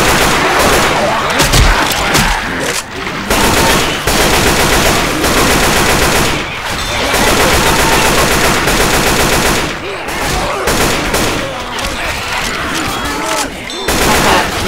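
Dense, loud gunfire from Left 4 Dead 2 rattles almost without a break, with rapid automatic bursts and a few short pauses between volleys, and a voice occasionally cuts in over the shooting.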